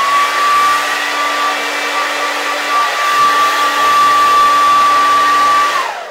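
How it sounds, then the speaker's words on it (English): A handheld hair dryer with its diffuser removed, set to the cool setting on high, blows a loud, steady, unbroken whoosh with a constant whine close by, cutting off at the end; no voices. "what I'm going to do now is just take my blow dryer again"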